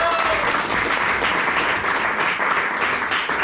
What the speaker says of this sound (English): big round of applause for Martin for his fantastic achievements.